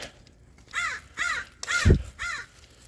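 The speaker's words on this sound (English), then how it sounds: "Yep, there's a crow up there." A crow caws overhead, four harsh calls spaced about half a second apart, fairly close and clear, with a brief low thump partway through and no talking.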